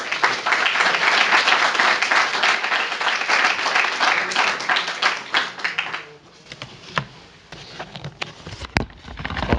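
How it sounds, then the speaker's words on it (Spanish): Applause from an audience at a university talk welcoming the speaker, a dense burst of clapping for about six seconds that thins to a few scattered claps and taps. "con un aplauso quisiéramos agradecerlo y bienvenirlo a la charla"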